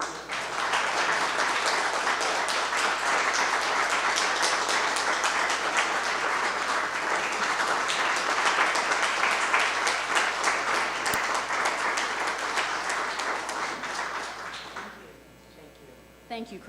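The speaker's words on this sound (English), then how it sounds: "How about a round of applause for you?" Sustained audience applause at a museum science cafe on Vietnam War medicine, steady clapping throughout that fades out near the end, moderately loud, with some faint voices underneath.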